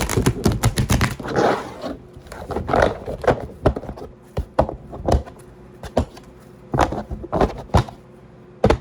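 Tarot cards being shuffled by hand at close range, a loose run of quick papery riffles and soft taps with short pauses between bursts, no voice over it.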